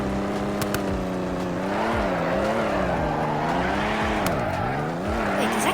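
A car drifting in the video game Car Crushers: a steady revving engine whose pitch dips and rises through the slides, with sustained tire squeal throughout.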